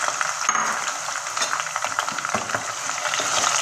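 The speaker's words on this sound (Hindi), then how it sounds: "अब हम इसके अंदर शिमला मिर्च फ्राई कर लेंगे।" Capsicum fries in a pan for Chinese-style mixed vegetables, producing a bright, continuous sizzle with soft stirring scrapes throughout.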